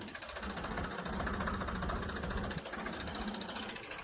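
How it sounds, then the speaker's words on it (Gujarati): A tractor engine runs steadily on a farm while the tractor moves along on its own with no driver, as wood logs are loaded nearby. The motor gives a continuous close rumble throughout. "ટ્રેક્ટર એમને એમ જાય છે."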